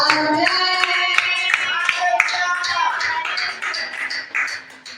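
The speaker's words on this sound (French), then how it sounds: "Est-ce qu'on peut applaudir le Seigneur?" A church congregation claps together during a prayer and intercession service, a sustained run of hand claps in a reverberant hall that fades toward the end, with voices murmuring and singing underneath.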